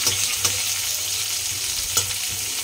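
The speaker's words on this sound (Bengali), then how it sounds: "তো পেঁয়াজ ভাজবো এবারে" Onions frying in a pan, a steady close sizzle with a few soft stirring knocks, and no one speaking.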